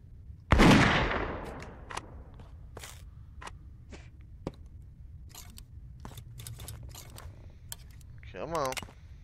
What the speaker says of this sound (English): Maybe I can see it with the rifle and take a shot.